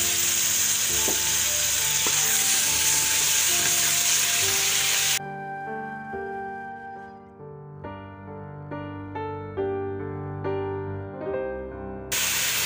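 Tomato paste hits a hot pan of frying palak chicken, giving a steady loud hiss that abruptly cuts to quieter, intermittent bubbling sizzles with background music tones.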